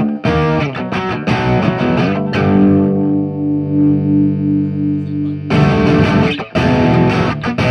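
Electric guitar in crunch tone through a Soldano SLO 30W Mini amp head with external effects, loud strummed chords, a sustained ringing chord in the middle, then more chopped strumming, close and dry.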